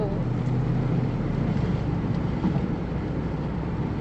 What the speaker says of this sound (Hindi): चल आवाज़ सुने इस गाड़ी की